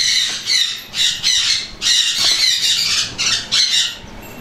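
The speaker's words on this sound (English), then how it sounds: "We will come out here to my pet birds, and it's going to be noisy." Pet eclectus parrot and yellow-collared mini macaw squawking loudly at close range in a series of harsh, repeated bursts with short gaps between them, and no talking over the calls.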